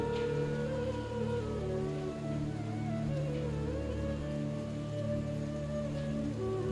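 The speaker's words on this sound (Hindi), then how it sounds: "आज भी वर्षा है रही है का?" Steady rain falls over a devotional gathering, a continuous soft patter filling the background with no clear pauses and no talk.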